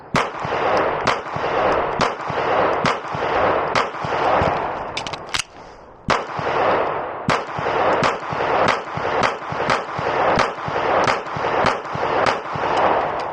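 Beretta PX4 Storm pistol fitted with a VPArmory compensator firing about fifteen loud rounds at a range target, a steady rapid string of sharp reports with one brief pause midway, no talking.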